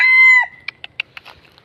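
A rooster crows once in a forest, loud and close, its call trailing off into a few short clucks.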